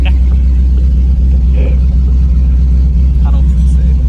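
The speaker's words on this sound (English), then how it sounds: "This car is so obnoxious, it's insane. Sounds like an earthquake." Pontiac Firebird with a single-turbo LS engine rumbles loudly and steadily in a deep low drone, heard from inside the car, with faint voices in the cabin.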